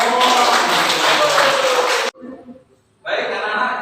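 Students in a classroom burst into applause, a dense burst of clapping lasting about two seconds, then a short lull with faint voices before a second round of clapping starts up.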